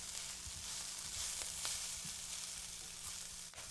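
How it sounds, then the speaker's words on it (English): Chopped onion and garlic sizzle in a pan, a steady bright crackle with occasional soft stirring knocks, close and moderately quiet. "you want to cook down the onion, cook down the garlic"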